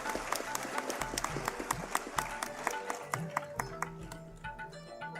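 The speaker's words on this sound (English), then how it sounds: "Can we have a round of applause for everyone?" Applause at a national symposium in a hall, moderately loud, with distinct individual claps standing out in a fairly steady rhythm over background murmur and low music.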